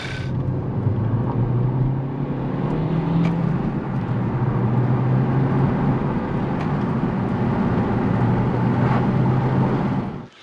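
A Hyundai Veloster Turbo with a new turbo and fresh oil change runs steadily, giving a continuous low engine rumble and road drone that holds at a loud, even level throughout with no talk.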